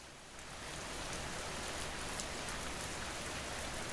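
Steady, dense rain pours down during a storm in an animated village scene in the Sundarbans. It is a continuous close wash of drops that swells slightly after the opening moment, with no voices.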